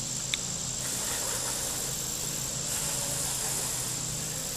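Honeybees droning around an opened hive during an inspection of a split colony, a steady soft buzzing hum that fills the clip at low level, with no talk.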